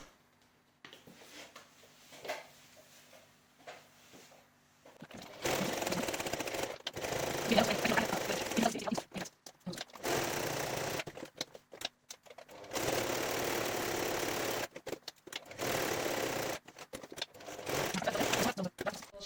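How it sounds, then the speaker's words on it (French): Sewing machine stitching a transparent window into a fabric face mask, running in long loud bursts separated by brief pauses and quieter handling sounds. "on va coudre la fenêtre dans le masque"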